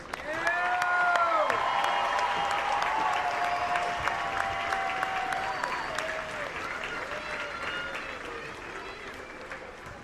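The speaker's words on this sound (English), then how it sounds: "Let's give our graduates one more round of applause." A commencement crowd gives graduates a sustained round of applause, steady clapping mixed with cheers and whoops, holding strong before slowly tapering off, with some voices in the background.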